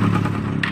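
Suzuki Rider 150 motorcycle engine runs on continuously with a steady close putter and faint clatter, faulty and refusing to switch off.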